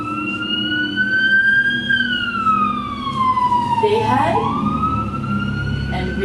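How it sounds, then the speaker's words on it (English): Fire engine sirens wail outside, a loud, steady rising-and-falling tone that sweeps down and back up, while a person speaks over it. "They had a fire. That's why the sirens are there."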